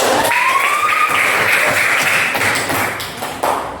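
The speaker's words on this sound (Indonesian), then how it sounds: "Tepuk tangan dulu." Students in a classroom group session give a round of applause, a thick wash of clapping with a thin whistle-like tone running through it, fading slightly near the end.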